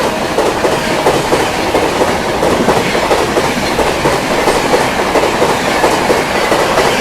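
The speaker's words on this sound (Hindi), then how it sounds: "दिल्ली शालदार राजधानी एक्सप्रेस आती हुई भाई फुल हॉकिंग के साथ" The New Delhi Sealdah Rajdhani Express passes close by in a loud, continuous rush, its wheels beating a steady clickety-clack rhythm over the rails with no voices.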